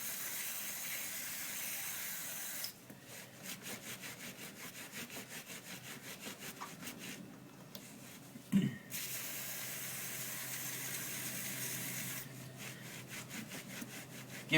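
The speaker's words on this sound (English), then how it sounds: "we're going to spray onto the chain and clean the chain off." Cleaning and lubricating the chain on a Suzuki GS500 motorcycle produces long hissing bursts of spray, separated by quieter rubbing and scrubbing, fairly close and low in level.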